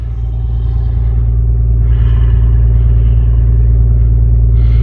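A car pulling away after turning around, a loud steady low engine rumble close by that holds level, with light clatter and no talking.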